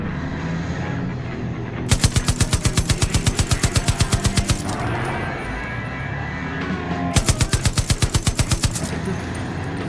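Far Cry 5 vehicle-mounted machine gun fires two long rapid bursts, loud and close, with engine noise rumbling between them and no talk.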